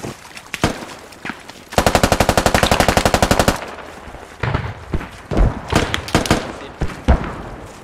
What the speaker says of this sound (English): Watch out, take some fire.